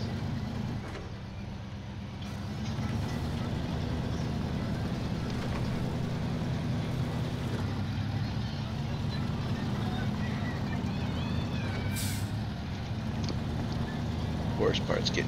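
A truck engine in a driving video game hauling a trailer through soft, muddy bog terrain: a steady low droning rumble runs throughout, with a few faint clanks and a brief hiss near the end.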